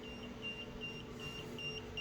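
An EMF meter held several feet from a microwave oven emits faint, thin electronic beeps in a quick repeating pattern over a quiet room hum.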